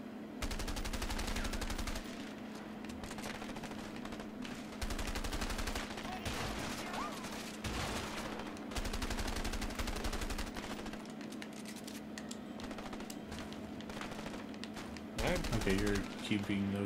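Rapid bursts of automatic gunfire crackle through a shoot-out in the video game A Way Out, with repeated volleys separated by short pauses over a steady low background hum.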